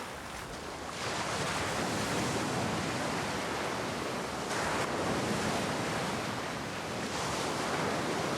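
Ocean surf washes steadily over a goatskin sack weighted with large stones off Santorini, a loud continuous broadband rush with a brief swell midway and no voices.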